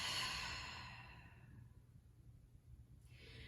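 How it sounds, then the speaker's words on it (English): A long, soft exhale through the mouth during a yoga flow, loud at first and fading out over a few seconds, with a faint hiss of breath and no talking. "Inhale through the nose. And exhale out through the mouth."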